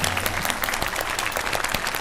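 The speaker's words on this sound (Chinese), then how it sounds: "来，掌声送给两位。" Studio audience applauding on a Chinese dating competition show, a dense, steady burst of clapping from many hands filling the room, loud and continuous with no speech over it.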